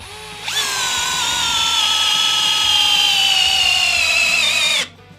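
A Hercules brushless drill drives in under load, one loud steady whine of about four seconds that rises and falls off sharply, with no talk over it.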